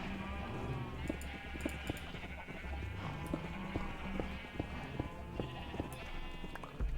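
Sheep in a video game survival multiplayer world bleat repeatedly, several overlapping calls in quick succession over a steady background, fairly close and clear, with no talking.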